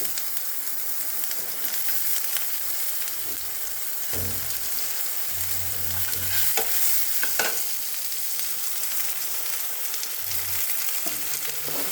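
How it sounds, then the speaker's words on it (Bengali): Cumin and onion sizzle continuously in hot oil, broken by occasional spoon scrapes and knocks against the pan. "এখন জিরে ফোড়ন দিচ্ছি আর অল্প পেঁয়াজ দেবো।"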